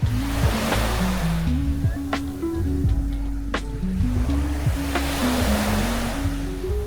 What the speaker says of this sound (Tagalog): nandito ako ngayon sa malapit sa may dagat